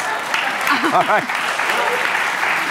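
Studio audience applause on a daytime health and cooking talk show, a brief burst of clapping rising under a host's speech and a loud voice calling out.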